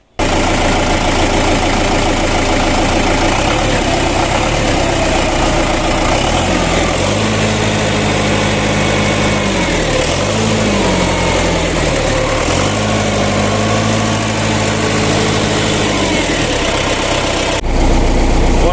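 An MTZ tractor engine after repair, running loud and close at a steady idle with a deep continuous rumble and slight shifts in pitch.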